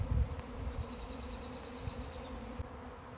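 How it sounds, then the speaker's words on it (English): Bees buzz around close by in an outdoor setting, a steady droning hum that persists without pause, with no talking. "I actually heard a buzzing behind my head that kind of freaked me out."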